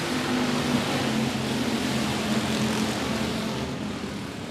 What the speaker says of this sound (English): We are green flag racing in the factory stocks.